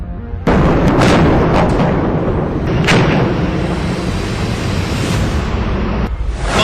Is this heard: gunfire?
yes